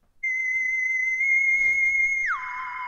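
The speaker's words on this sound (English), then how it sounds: "Does Quinn's alarm sound something like this" A sci-fi style phone alarm tone: a steady electronic whistle-like tone held for about two seconds, then sliding down into a brighter, buzzier tone, close and loud with no talking.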